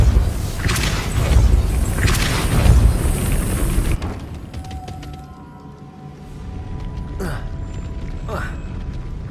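A Depulso force spell is cast in Hogwarts Legacy on a PS4 slim, giving a loud rumbling, booming blast that lasts about four seconds, then drops off into quieter ambient tones with a few faint shimmering chimes.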